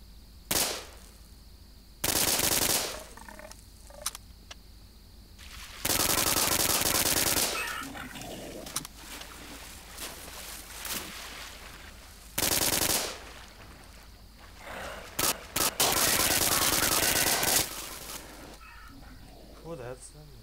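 HMG-1 heavy machine gun firing in Half-Life 2, with loud sustained bursts of automatic fire separated by quieter gaps, while a voice talks intermittently over the action.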